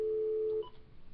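A steady telephone line tone sounds during an on-air radio call, a clear continuous electronic hum that cuts off partway, leaving faint line noise and a few soft blips.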